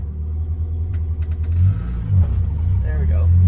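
A Crosley car engine revs low and rumbling up close, rising and swelling toward the end.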